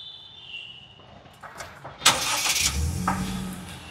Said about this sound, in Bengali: এট ফার্স্ট আমি গাড়িটা স্টার্ট দিই। আপনারা জাস্ট একটু নোটিস করবেন গাড়িটার ইঞ্জিনের সাউন্ড এখনো কতটা স্মুথ